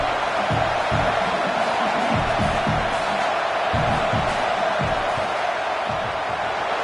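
A stadium crowd roars steadily as a football field goal unit lines up to kick, a dense, continuous wall of cheering and noise with a few louder swells.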